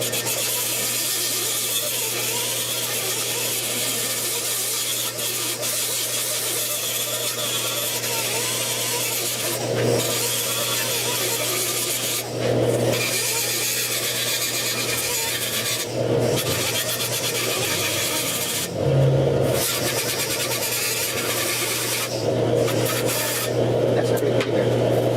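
A half round file rasping against a rusted 1969 Chevrolet C10 truck core support, steady close scraping strokes running continuously with a few brief pauses and louder bursts.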